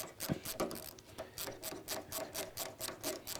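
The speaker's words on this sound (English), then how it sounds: "I'm now going to take off the top hose as part of the process of removing the radiator." Rubber top hose being worked off a car radiator during radiator removal, with repeated close rasping and rubbing scrapes in an uneven rhythm, no talking.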